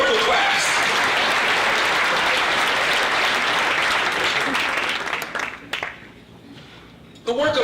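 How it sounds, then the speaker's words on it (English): Loud, sustained audience applause fills a banquet hall at an annual dinner, then thins to scattered claps and a lull before a brief return of clapping at the end. "Clap for that too."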